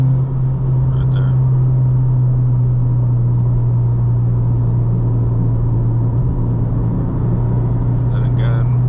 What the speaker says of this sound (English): Then again, clutch down, shift, bite point, gas, off clutch.